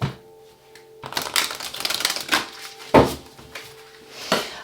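Cards are shuffled up close in a few quick riffling bursts, with papery flutters and soft taps between them; no talking.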